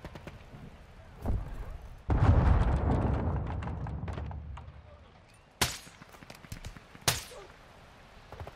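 Video-game gunfire cracks out in a few sharp shots, with a longer rumbling burst early on and two loud single reports near the end, close and punchy over a quiet background.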